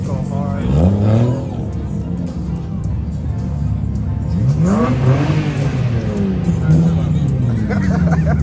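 Car engine revving loudly at a car meet, with repeated rising revs and passing engine sounds under chatter and crowd voices nearby.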